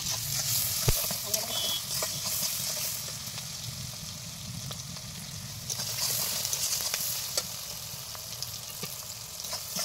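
Green chillies and onion frying in oil in a home kitchen make a dense, continuous sizzle. It is close and steady, with occasional crackles and stirring noises.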